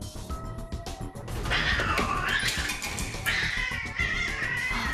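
Cats fighting up close indoors, with loud yowling caterwauls and harsh hissing that swell into a continuous, frantic scuffle.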